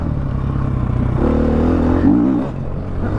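A 2016 KTM 500 EXC dirt bike engine rises under throttle, revving up for about a second before easing off, loud and close with no talk.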